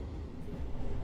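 Gaya Baru Malam economy passenger train on the Surabaya to Jakarta line running along, a steady close rumble of wheels and carriage noise that stays continuous and fairly even throughout, with no talk over it.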